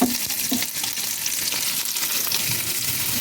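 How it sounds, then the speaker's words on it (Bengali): Chopped onions and green chilies fry in hot oil, a dense, steady sizzle that stays loud and close throughout, with a few faint scrapes of stirring and no talk. "তেল গরম হয়ে গেছে, এখন আমি দিয়ে দেবো পেঁয়াজ কুচি, তারপর দিয়ে দেবো কাঁচামরিচ"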